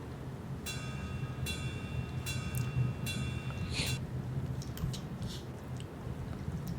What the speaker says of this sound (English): one difference is I had some ride cymbals in, which sound like this by themselves